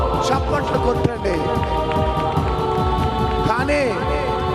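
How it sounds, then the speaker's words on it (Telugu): A church congregation at a Telugu-language sermon claps in dense, rain-like applause that runs continuously, blended with music and a speaking voice. "చప్పట్లు కొట్టండి."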